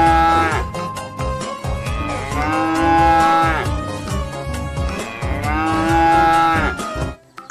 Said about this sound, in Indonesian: ini namanya kerbau